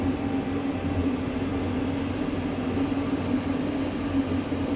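Heavy ethanol freight train with four locomotives at the front and two at the back, climbing Sherman Hill in Train Sim World 5. A steady low diesel engine drone and rumble, constant and loud, no talking.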